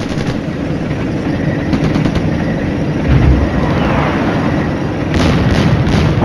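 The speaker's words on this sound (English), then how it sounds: "Enemy firing at us." Enemy gunfire in the wargame Flashpoint Campaigns comes as a steady rumbling roar of distant automatic fire and booms, with a few louder thuds partway through.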